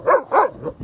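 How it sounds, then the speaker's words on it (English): A 16-week-old curly-tailed puppy on a snowy Canadian homestead farm barks three short times, close and clear, the last bark softer, with no talking over it. "This is the pup. 16 weeks old today."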